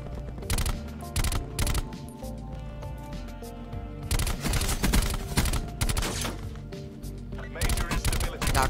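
Rapid bursts of gunfire from a Call of Duty Black Ops 4 Blackout match crack loud and close in repeated volleys and sustained automatic strings, with a player's voice talking between them.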